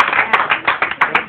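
Hands clap in quick rhythm at a church revival service, about eight close, sharp claps in just over a second.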